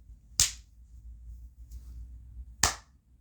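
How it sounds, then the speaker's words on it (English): A single sharp hand clap, then a faint, cut-off half clap, then another crisp clap about two seconds later, each isolated against near silence. "Yeah, that's a clap and a half."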